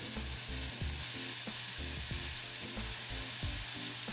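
Carrot and onion fry in melted butter in a cast iron skillet, a constant close sizzle broken by rhythmic scraping stirs, with no voices.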